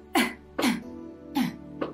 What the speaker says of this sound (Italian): dovete semplicemente fare un colpetto di tosse